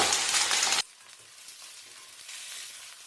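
Onion, potato and eggplant pieces fry in a pan: a loud burst of sizzling for under a second, then a quieter, steady crackle continuing as the food settles.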